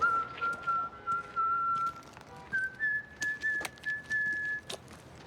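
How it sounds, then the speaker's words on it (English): A person whistles a bright, clear tune in short phrases with pauses, one sustained tone shifting to a higher pitch midway, fairly faint over quiet background. "and why is he whistling?"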